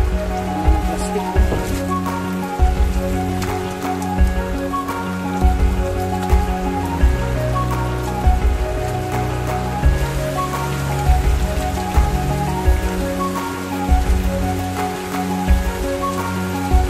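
Rain falls steadily on a rooftop with plastic sheeting, a dense continuous patter of drops with scattered louder splats, close and even throughout, no voices over it.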